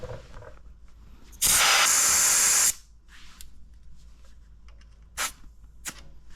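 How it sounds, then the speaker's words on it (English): Air hissing loudly from a car tire as it is deflated from about 35 psi, one strong burst of over a second followed by a few short, quieter releases, close up and without talk. "Now let's go ahead and deflate and try the Lasfit."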